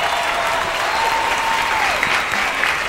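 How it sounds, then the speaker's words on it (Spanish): Live audience applause at a tribute event, a loud continuous wash of clapping from many hands with a faint tone gliding beneath it, steady from start to finish. "Y yo quiero hoy pedir un aplauso para un amigo de verdad"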